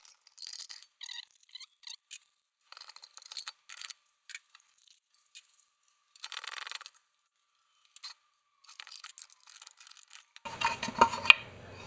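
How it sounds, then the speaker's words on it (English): Clamps coming off a glued walnut end-grain cutting board: faint, scattered metallic clinks, ticks and scraping in short bursts, with a brief louder rustle at the end. "take off all the clamps."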